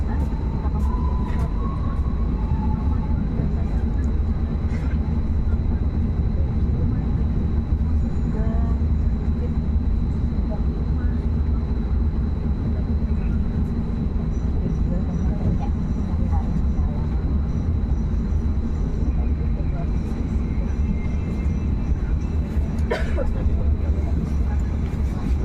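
The Tegal Bahari train passes straight through Cirebon Kejaksaan station, heard as a continuous loud low rumble from inside the moving train, with faint voices now and then.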